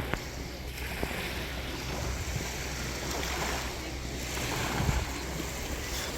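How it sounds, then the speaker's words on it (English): Strong wind roars steadily with lapping waves around a paddled boat on Blue Lake in Ontario, facing into a headwind; a continuous broad rush with no speech. "Wind's pretty strong. Facing kind of our face. Trying to paddle through."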